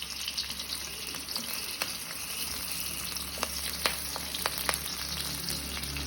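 Sliced onions and green chillies frying in oil in a hot pan, a steady moderate sizzle with scattered sharp crackles and pops, heard alone.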